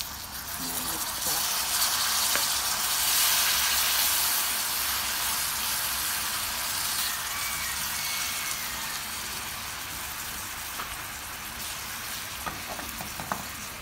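Pineapple pieces coated in batter fry in hot oil, giving a loud, steady, continuous sizzle and hiss close by with occasional faint clinks.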